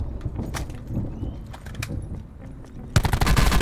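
Rapid gunfire from a Call of Duty: Blackout match, a dense burst of shots striking an enemy over busy game noise, with a louder, sharper volley near the end.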